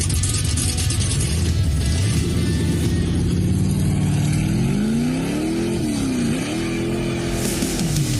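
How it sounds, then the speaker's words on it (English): A car engine revs up and down in an old archived recording, rising and falling in pitch through several sustained, fairly loud pulls over a constant mechanical drone, with no voices. "It was an excellent car sound."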